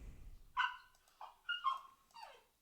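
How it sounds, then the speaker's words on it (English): A dog shut in its crate whimpers and yips in short, high, plaintive cries, three or four close bursts separated by brief pauses in a quiet room. "nobody wants to hear my dog crying"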